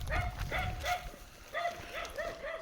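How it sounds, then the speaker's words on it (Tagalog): Pet dogs on a farm yapping in a steady series of sharp, high barks, partly distant, over an outdoor background of wind and rustle. "sumama yung mga aso dito pababa"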